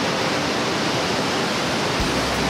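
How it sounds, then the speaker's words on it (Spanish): Rough, fast-flowing river water rushing over rocks, a loud, unbroken roar that fills the whole stretch with no voices. "como estáis escuchando, hoy viene el agua un poco brava"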